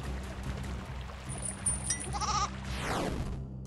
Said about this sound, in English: A goat! There's really obviously a goat.